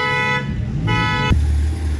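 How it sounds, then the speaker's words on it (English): A Lamborghini's car alarm goes off outdoors, giving steady electronic tones that break off, return, then give way to a lower rumble near the end. "The Lambo just set off the car alarm."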